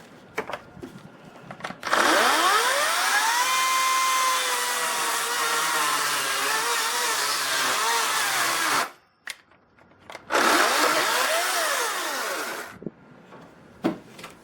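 A Ryobi 40-volt Gen 3 battery chainsaw whines loudly through a long cut of about seven seconds, pitch dipping under load, then stops briefly and revs into a second, shorter burst.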